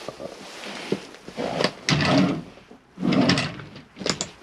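Storage drawers in an Elddis Accordo 135 caravan slide open and shut, with several close wooden thuds, rattles and sliding scrapes in quick succession and no one talking.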